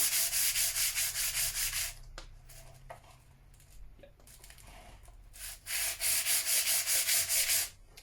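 Sandpaper rubs back and forth over guitar frets to level them, a rhythmic scratchy swishing in quick strokes, close and fairly faint, pausing for a few seconds with light handling noises before the strokes resume.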